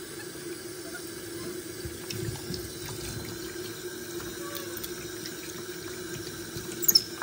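Tap water runs steadily into a sink or basin to bathe a pet monkey. A soft, even rush with light splashing fills the background, and a few sharp clicks come near the end.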